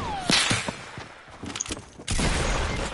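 Video game gunfire in Fortnite: several sharp shots crack out in quick bursts, then a louder sustained volley of fire in the final second, amid game ambience.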